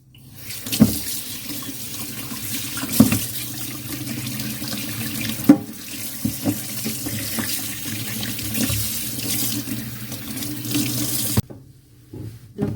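Catfish are rinsed under a running kitchen tap, with water gushing continuously into a sink, punctuated by splashes and knocks as the fish is handled, before the flow cuts off near the end; close, with no talking.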